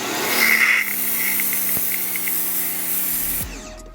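A Teande pressure washer motor starts up and runs steadily, a loud continuous hum with a hissing spray, then cuts off abruptly near the end; no talking.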